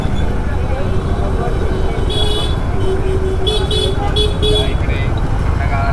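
Busy road traffic in Maharashtra's Konkan region during a ride, a constant loud engine and road rumble with several car horns honking in short bursts near the middle.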